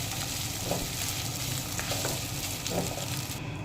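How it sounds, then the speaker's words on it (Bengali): Grated coconut frying with green chilli in a pan for a vegetarian taro-leaf dish, giving a steady, close hiss of oil sizzling throughout, with faint scrapes of stirring and no talk. "নারকেলটা দিয়ে এবার আমি ভালো করে একটু ভাজা ভাজা করে নেব।"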